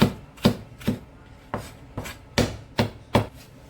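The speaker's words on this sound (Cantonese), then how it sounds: "用刀將薑切薑米" Knife chopping ginger into fine bits on a board, eight sharp evenly spaced thuds close up, each with a short fading ring, no voices.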